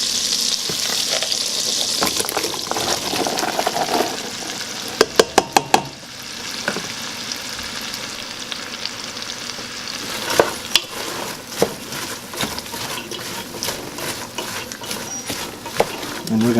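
Onions sautéing in olive oil and butter in a saucepan give a steady sizzle and frying hiss, broken by clusters of sharp clicks and scrapes from stirring, with a voice talking over it.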